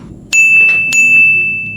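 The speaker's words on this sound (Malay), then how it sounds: "Ada mesej baru." A short bright ding of a new message notification on a phone rings out twice, the second tone soon after the first, each with a lingering ring, over a quiet background with no speech.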